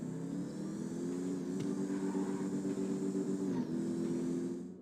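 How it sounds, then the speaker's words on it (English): Car engine in Grand Theft Auto 5 revving steadily and loudly, a sustained mid-pitched drone that holds for several seconds, dips briefly, then tails off near the end, with no talk over it. "If done correctly, you will traditionally hear a nice revving of your vehicle."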